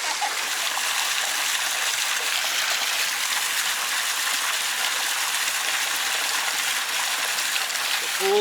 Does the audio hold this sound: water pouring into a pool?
yes